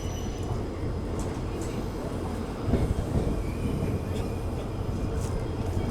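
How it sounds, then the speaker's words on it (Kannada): Sindhanur Express train rolling toward platform 2 at a station, a steady low rumble with faint rail clatter, close and continuous throughout. "ಸಿಂಧನೂರು ಎಕ್ಸ್ಪ್ರೆಸ್ ಪ್ಲ್ಯಾಟ್ಫಾರ್ಮ್ ನಂಬರ್ 2ಗೆ ಹೋಗ್ತಾ ಇದೆ"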